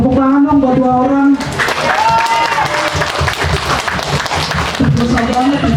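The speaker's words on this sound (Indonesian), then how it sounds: "Tepuk tangan dong buat dua orang." An audience at a live stage competition breaks into loud applause and clapping close by, cutting in over a speaking voice and carrying on dense and continuous, with voices heard over it.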